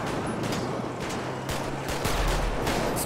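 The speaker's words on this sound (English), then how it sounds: "Oh, he's shooting!" Dense gunfire rattles in the OCRP video game, a continuous volley of rapid shots at a steady loud level for about three seconds.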